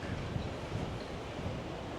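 Steady broadband wind rushes across an open cruise ship deck on a cold, windy day, a continuous low roar with faint buffeting and no voices.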